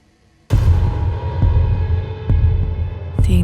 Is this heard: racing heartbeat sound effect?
yes